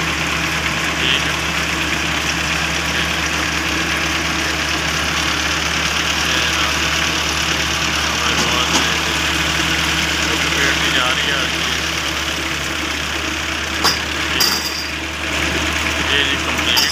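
A silage baling and wrapping machine runs with a steady, loud mechanical drone and rumble throughout, joined by a few sharp clanks near the end, heard close up in a farm setting.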